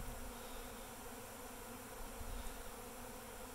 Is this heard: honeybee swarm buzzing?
yes